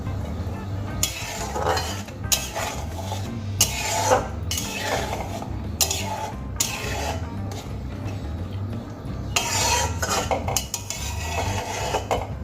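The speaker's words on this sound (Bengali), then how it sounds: "ঝোলের মধ্যে আমি ভাজা পটলগুলো দিয়ে দিয়েছি" Fried pointed gourd is stirred into a simmering mustard gravy in a metal pan, with repeated scraping and clinking strokes of a spoon against the pan over a faint bubbling sizzle.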